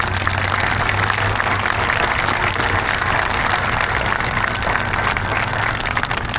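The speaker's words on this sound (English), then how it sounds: "How about a big round of applause for these two students?" Sustained crowd applause at a Vietnam Veterans Day memorial event, honoring two students: dense, steady clapping from a large audience, loud and continuous throughout with no talk over it.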